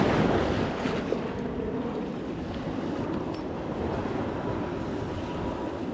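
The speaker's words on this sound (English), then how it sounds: "Let these kind of little turbulent waves go" Small, choppy surf waves at Newport Beach wash and churn continuously, with a dense, steady roar mixed with wind buffeting on the microphone.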